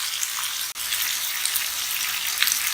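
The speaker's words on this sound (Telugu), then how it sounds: "ఈ పీసెస్ అన్నీ ఒక 5 minutes మీడియం ఫ్లేమ్లో ఫ్రై చేసుకోవాలి." Fish pieces frying in oil on a medium flame for Andhra-style fish curry, a continuous close bright sizzle and crackle throughout with one brief dropout.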